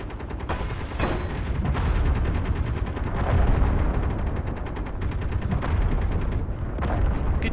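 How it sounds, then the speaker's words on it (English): Gunfire from shooting: dense, continuous volleys of sharp cracks and booming blasts rolling over one another at steady loudness, with no voices. "Good shooting, guys."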